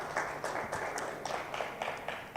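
Scattered applause from a meet-up audience, steady close clapping for a couple of seconds with a little voice mixed in.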